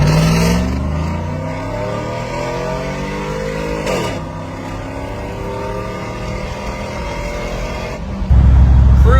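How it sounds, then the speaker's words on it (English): Cammed 6.0 Silverado with Speedy Sport muffler and manifolds at full throttle, a loud rising exhaust roar climbing through gears with pitch drops at each shift and a deep burble near the end. "Full throttle acceleration."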